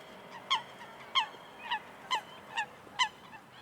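Ducks in the Boston Public Garden give about seven evenly spaced nasal quacks, each short and fairly faint over quiet outdoor background.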